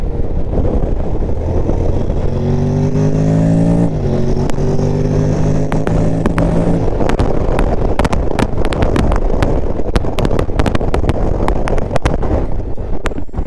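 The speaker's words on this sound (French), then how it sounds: "on va se mettre en sport, hop, et vous allez voir tout de suite que le moteur il reprend pas pareil" A Honda Forza 750 scooter engine in sport mode pulls hard, its rising drone stepping up in pitch through several surges, heard loud and close under heavy wind rush.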